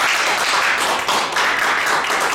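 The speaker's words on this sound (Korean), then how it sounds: "그런 저에게 응원의 박수 보내주실 거죠?" Audience applause for a speech lecturer, a dense wash of clapping that holds steady and loud across the moment with a brief dip midway, no voices over it.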